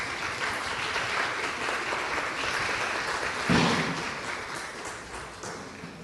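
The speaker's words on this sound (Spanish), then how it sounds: "Un aplauso." Audience applause at a low-carbon cities forum, a steady wash of many people clapping continuously, with a brief louder swell midway.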